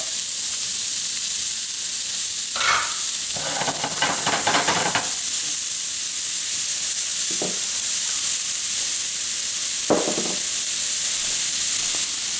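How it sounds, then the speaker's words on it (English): Onions hitting a hot pan for a stuffed avocado recipe, a steady hiss of sizzling throughout with a burst of scraping around the middle and two brief clatters later. "Okay, I've got a hot pan here. I'll start by sauteing my onions."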